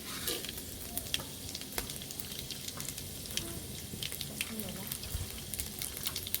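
Tempering seeds crackle and sizzle in hot oil, with sharp pops scattered over a steady frying hiss, close up.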